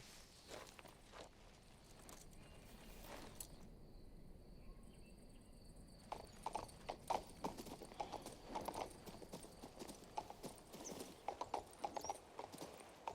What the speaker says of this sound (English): No matter the game, the horses will always find a way to get stuck somewhere.